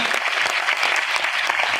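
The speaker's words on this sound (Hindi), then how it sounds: "मिस्टर दिनेश कुमार चौधरी, मैं चाहता हूँ उनके सम्मान में जोरदार तालियां।" Dense, loud audience applause at a Vestige business gathering, a steady wash of many clapping hands close by with no talking over it.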